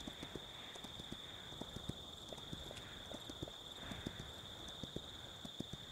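Horse hooves clip-clopping in the Kingdom Two Crowns game, a farm nag walking at a steady, even pace, soft and close over a constant high tone and light background ambience.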